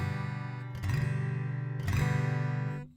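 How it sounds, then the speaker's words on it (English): An acoustic guitar strums an open G campfire chord, two close, fairly soft strums that ring out with no voice over them. "you probably know G, the campfire chord, like this."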